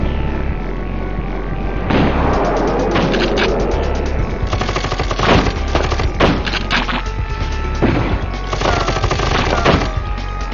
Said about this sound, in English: I like my rotary cannons, pretty cool.